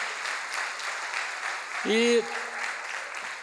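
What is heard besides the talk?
church congregation applauding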